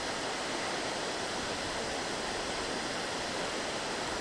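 Waterfall plunging over a big drop, a loud, constant roaring rush with no breaks, steady and dense throughout.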